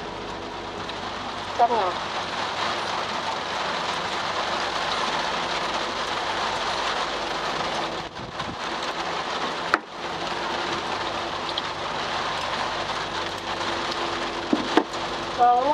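Rain falls steadily at the Sơn Đốt market, a dense continuous hiss with occasional soft knocks, while people talk over it.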